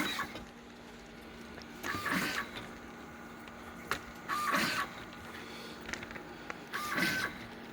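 A LAB510 labelling machine running on pouches, with a steady mechanical hum and three or four whirring motor bursts at regular intervals, close and with no talking.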